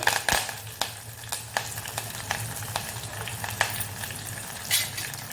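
Crushed garlic cloves, curry leaves, cumin seeds and dried red chilies fry in hot oil, giving a steady close sizzle with scattered crackles and pops and occasional stirring clinks.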